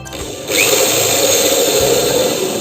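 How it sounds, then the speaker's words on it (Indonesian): A power drill whirring steadily as it drives screws into plywood panels for an 8-inch Polytron PSW500 subwoofer box, starting up after a short moment and running loud and close without a break. "Kemudian untuk merekatkan triplek ini sendiri menggunakan skrup"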